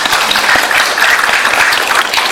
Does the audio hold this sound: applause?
yes